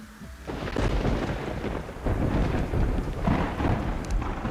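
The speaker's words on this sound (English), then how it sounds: "Oh, we triggered a storm." A thunderstorm in the video game Terraria with the Calamity Mod: a steady, loud wash of rain and rumbling thunder that swells after a moment and continues throughout, with no voices.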